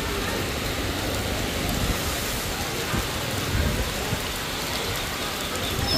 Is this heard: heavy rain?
yes